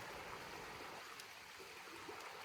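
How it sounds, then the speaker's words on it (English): A small creek runs through a front yard in Sautee Nacoochee, a faint, steady trickle and burble heard from a short distance with no voices. "Here's our creek."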